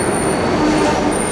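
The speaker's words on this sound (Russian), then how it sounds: "вот это подземный трамвай" Underground tram rolling through a tunnel in Budapest, a loud steady rail rumble and wheel hiss filling the whole moment without speech.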